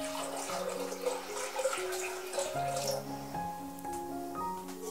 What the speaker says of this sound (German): Zuerst Wasser rein.